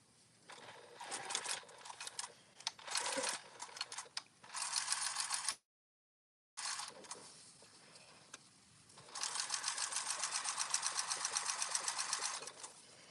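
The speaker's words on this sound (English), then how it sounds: "I'm going to go ahead and top stitch it real quick" A sewing machine top stitches fabric in repeated close bursts of rapid mechanical chatter, broken by short pauses and a brief total dropout, ending with a longer steady run.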